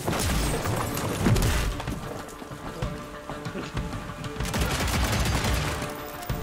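Gunfire in the Western action game Evil West, bursts of loud shots and impacts with heavy booms, close and dense, fading briefly mid-clip before another volley of shooting.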